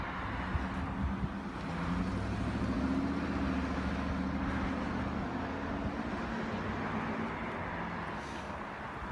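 Cars and a truck roll up to a stop sign and pull away, a continuous fairly faint traffic rumble that swells and fades as vehicles pass at a distance, with no voices.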